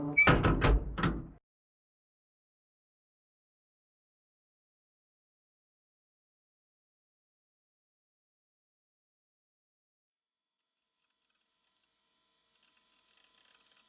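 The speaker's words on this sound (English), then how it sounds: "After some time I heard the sound of the door opening" Door opening sound effect from the Chaos;Head visual novel, a short creak and clunk lasting about a second, then near silence for the rest.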